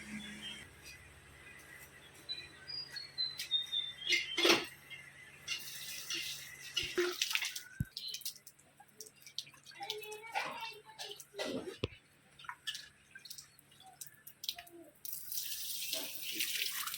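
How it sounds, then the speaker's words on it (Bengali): Water splashes and runs in bursts from a tap while fish is washed by hand in a home kitchen, close and intermittent, with a few clatters and a voice in the background. "তো হলো মাছ ধোয়া।"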